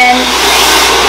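A hair dryer on its locked cool-air setting blows steadily at close range, a continuous loud whooshing roar of air with no breaks.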